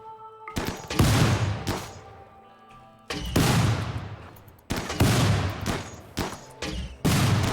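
Gunfire in RimWorld: several loud, sharp bursts of shots, each a cluster of rapid cracks with ringing tails, separated by brief lulls and growing more frequent toward the end.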